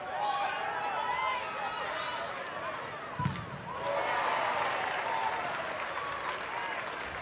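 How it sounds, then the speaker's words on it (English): West Ham supporters cheer at a women's football match against Leicester, a distant crowd roar that swells and lifts midway, with a brief thump and a commentator talking over it. "You can hear the cheer from the West Ham fans."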